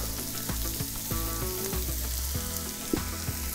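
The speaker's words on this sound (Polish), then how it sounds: "Jeszcze obsmażone leciutko razem z warzywami dodadzą swojego smaku." Sunflower seeds fry lightly with vegetables in a pan, giving a steady dense sizzle with small crackles and the occasional scrape of stirring.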